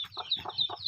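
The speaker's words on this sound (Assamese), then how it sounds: "চব মোৰ মুৰ্গী পোৱালি আছে" Small chicken chicks cheep in quick, repeated high calls, close and fairly loud, with no voices over them.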